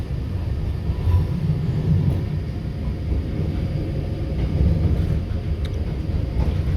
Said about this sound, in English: That was the tram driving on the streets.